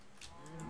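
A cow in the Minecraft video game gives a short, faint low moo, a single brief call with no talk over it.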